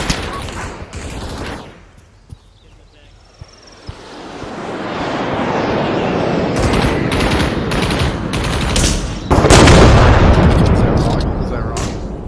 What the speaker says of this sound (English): He called airstrike on us.